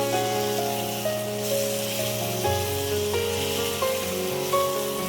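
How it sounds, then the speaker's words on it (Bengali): Ingredients for hilsa fish with cumin paste are stirred in a hot pan, giving a steady, fairly loud sizzling hiss that runs throughout without pause. "1 মিনিটের মতো একটু নাড়িয়ে নেব।"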